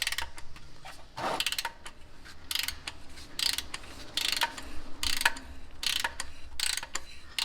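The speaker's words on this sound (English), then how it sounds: "I have the special tool along with a 3/8 ratchet." A 3/8-inch ratchet works against a special oil filter tool on a 2009-2013 Toyota Corolla, giving bursts of quick clicking and mechanical ratcheting with short pauses between strokes, fairly close and moderately loud, with no talking.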